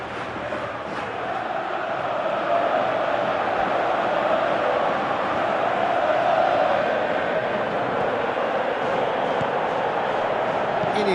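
Stadium crowd in the football video game Winning Eleven 2018, a steady broad roar swelling and easing under commentary voices throughout.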